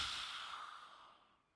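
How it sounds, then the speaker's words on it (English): A single forceful exhale through a wide-open mouth during yoga breathing, a breathy rush that fades away over about a second and a half, close and quiet. "Lion's breath."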